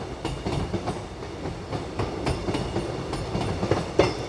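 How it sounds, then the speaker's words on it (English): A train rumbles past close by with a steady low roar and repeated clickety-clack of wheels over rail joints, filling the whole stretch without any voices. "Here comes another train."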